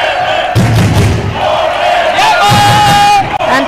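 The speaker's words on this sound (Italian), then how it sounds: "Tanto il tifo Covene che si sta facendo sentire" Volleyball fans in a sports hall cheering and chanting loudly during a women's Serie B1 match, a continuous crowd roar with shouted voices and occasional thuds, commentary running over it.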